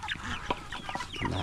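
Chickens cluck and fuss close by while being fed outdoors, a steady mix of short clucks and murmuring calls with low background noise.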